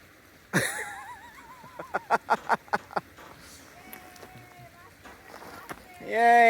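Feet wading through a river crossing on the Pacific Crest Trail near Manning Provincial Park, a run of rhythmic splashing steps in shallow water, with voices chatting and faint whistling before and after.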